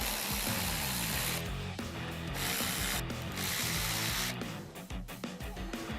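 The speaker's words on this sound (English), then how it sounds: "we'll remove the two 7mm bolts" A ratchet wrench removing two 7mm bolts from a grab handle inside a 2017-2022 Ford Super Duty truck cab, rapid close clicking in steady bursts with short pauses between strokes.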